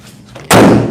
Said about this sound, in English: I will close the hood so you guys can actually get a look at everything.